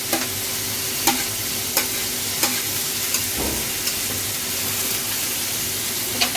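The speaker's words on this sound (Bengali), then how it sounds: "আমি এর মধ্যে ক্যাপসিকাম দিয়ে দিচ্ছি 3 রকমের" Three kinds of capsicum are stirred in a frying pan over a steady, loud sizzle. A spatula knocks against the pan in a regular rhythm, about once a second.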